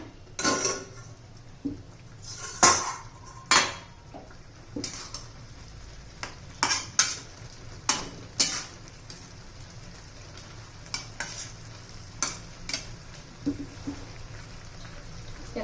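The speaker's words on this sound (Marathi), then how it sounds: "मधून हलवत राहायचंय हे पाहिजे हलवून घेऊया" Moong dal and onion cook in a pan while being stirred, with scattered loud clinks and scrapes of a spoon against the metal over a faint low simmer, the strokes coming in irregular bursts with quiet gaps.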